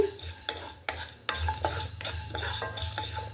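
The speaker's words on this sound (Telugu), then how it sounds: "మెంతులు కొంచెం దోరగా వేయించుకోవాలి బాగా నల్లగా అలా మాడకుండా వేయించుకోవాలి" Fenugreek seeds roasting in a pan for Andhra-style amla pickle, with a spoon scraping and stirring in a quick, regular rhythm over a soft, close sizzle, and no voices.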